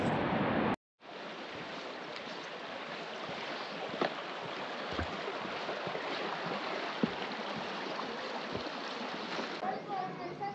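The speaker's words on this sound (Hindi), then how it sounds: "ये पानी निकल रहा है और बहुत ज़्यादा शोर है पानी का" Glacier meltwater stream on the hike to Nanga Parbat base camp, rushing loud and steady as a broad continuous roar of water, close by, after a brief cut at the start.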